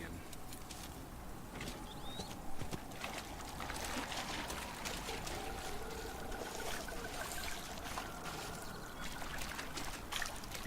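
A waterfall in the video game Dragon Age Inquisition gives a steady, broad rushing wash of falling water, constant and moderately loud throughout, with faint scattered chirps over it.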